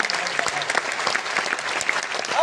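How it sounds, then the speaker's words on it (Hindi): Dense, continuous audience applause for a doctor after a talk, many hands clapping at once, fairly close and steady for the whole stretch. "डॉक्टर मोहन सर के लिए जोरदार ताली चाहता हूँ"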